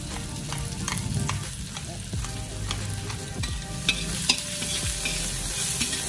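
Onion and ground peppercorn sauté in a pan for chicken adobo, a steady close sizzle broken by repeated scraping stirs of a utensil against the pan, with no voices.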